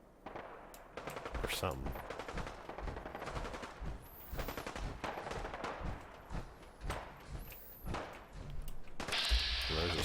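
Fallout 4 factions of Mechanist robots and Gunners exchange sustained gunfire, with dense overlapping shots and bursts at a moderate distance, while someone talks over it.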